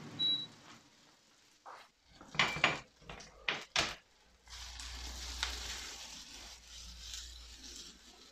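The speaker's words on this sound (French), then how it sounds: "Ensuite vous mettez les chorizo. Et vous laissez revenir ensemble." Chorizo goes into a pan, with a few sharp clatters and scrapes of utensil on pan, then a soft, continuous frying sizzle settles in under a low hum.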